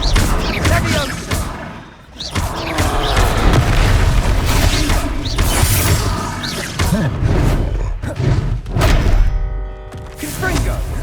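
Repeated heavy booming blasts from the Confringo fire spell in Hogwarts Legacy on PS5, a rapid series of deep explosive thuds and crackles during combat, loud and close, with brief character voices in between.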